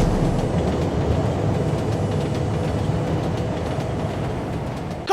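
A train rolls along in a horror comic book movie scene with a train car being cut loose, a steady rumbling rattle that stays loud and continuous throughout with no voices.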